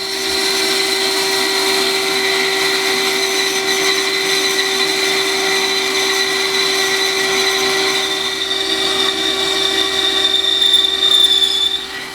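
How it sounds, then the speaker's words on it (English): Bandsaw making a rip cut along a hardwood timber piece with a coarse, fewer-teeth blade, a steady close motor whine with a sustained cutting hiss that rises slightly near the end. "I've got one with less teeth, so it should do a rip cut along this timber fine"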